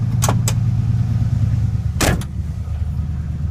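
A cold 1970 Chevy C10 pickup with a three-on-the-tree manual and a faulty choke idles and rumbles steadily up close as it pulls out, with a couple of brief sharp clicks over the low engine drone.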